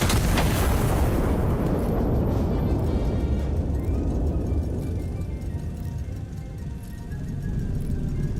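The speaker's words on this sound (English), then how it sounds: "Firing main cannon." A giant main cannon fires in the game Iron Nest, opening with a massive broadband blast that rolls into a long, heavy rumble fading slowly over several seconds, loud and close with no talking.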